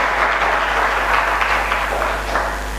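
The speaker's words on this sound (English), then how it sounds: "now you can clap for Professor Swaminathan and for the achievement of India" Lecture-hall audience applauding steadily throughout, a dense, even wash of clapping with no voices on top.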